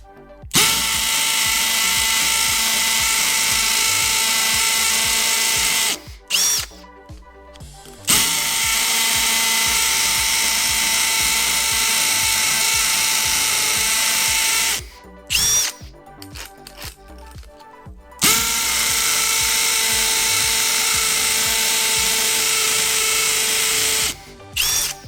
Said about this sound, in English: Speed 2 hammer drill.